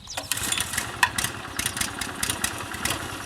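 Petrol engine of a Protea groomer starting and running close by, a buzzy mid-pitched chug with rapid uneven pulses, steady throughout.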